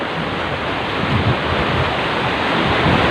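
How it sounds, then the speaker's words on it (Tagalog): Large ocean waves at high tide break over a rocky shoreline during a fishing outing, a continuous loud, rushing roar of surf with wind buffeting the microphone and no speech. "laki ng alon. High tide."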